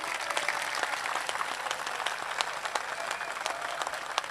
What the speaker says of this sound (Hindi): एक बार इस भाई के लिए जोरदार ताली बजाई